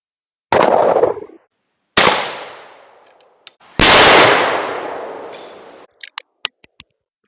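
A 20-gauge Remington SPR 210 shotgun firing Winchester Super X game loads booms three times at close range, each blast ringing out and slowly fading, followed by a few small metallic clicks.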